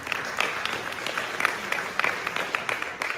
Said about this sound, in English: And then we got some more clapping.